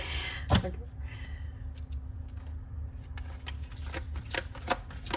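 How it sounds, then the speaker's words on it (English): Stiff tarot cards being shuffled in short rustling, riffling bursts, close by, with a sharp snap near the start and scattered clicks later. "These cards are so hard to shuffle."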